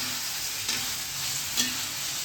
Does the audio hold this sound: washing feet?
no